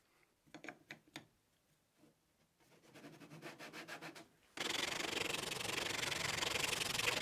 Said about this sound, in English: A little bit of sanding to clean it up